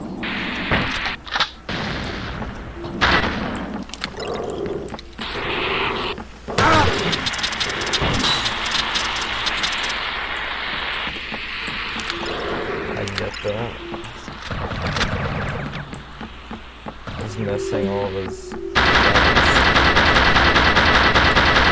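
Gunfire bursts in the multiplayer video game Chaos Theory: Spies vs. Mercs crack among loud, busy in-game noise and engine-like rumble, with players talking throughout.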